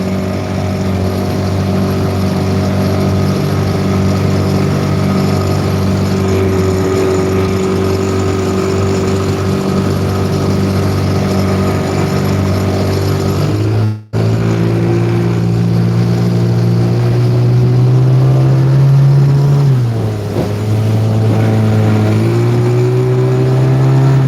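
A new boat motor running steadily near a small fishing boat with the throttle untouched, a loud, even droning hum that briefly cuts out, then settles at a slightly shifted pitch.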